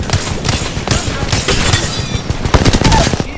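Sustained gunfire in a battle royale video game, dense overlapping shots and crackling impacts at steady loudness with a few sharper nearby cracks toward the end, under faint background voices.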